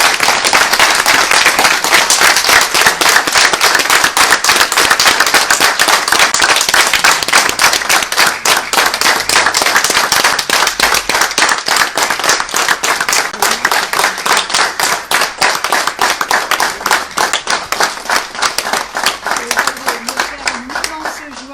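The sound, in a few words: council members applauding the newly elected mayor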